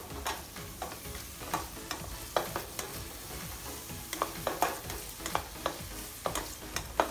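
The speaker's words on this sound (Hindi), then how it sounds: "थोड़ा सा प्याज यहाँ पे हम बटर में भी सौते करेंगे" Onion sautéing in butter in a pan for paneer lababdar, with a soft continuous sizzle and regular spatula taps and scrapes at a steady pace, close and quiet, no talk.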